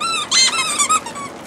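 A rubber dog toy squeaks several times in quick succession, high-pitched and close.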